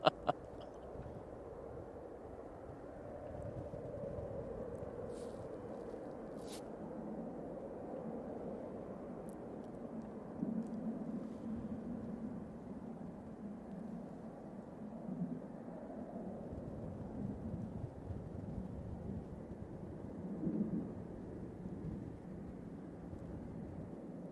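A departing airliner climbing out of Manchester Airport, overhead a house: a steady, far-off low roar held for the whole stretch, sustained and even, with no talking.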